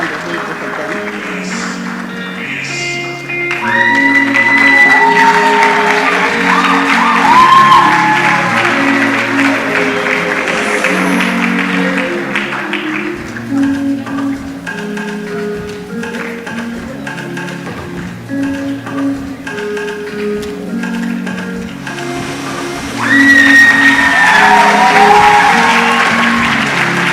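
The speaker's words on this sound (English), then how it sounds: "Round of applause" An audience at an award ceremony for a national research festival in Kenya applauds in sustained, dense clapping that swells twice, with scattered voices and possible cheering mixed in.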